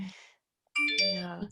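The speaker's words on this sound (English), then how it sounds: "That's my phone that's beeping." A mobile phone gives a short tonal beeping alert, bright and fairly close, following a brief bit of low voice.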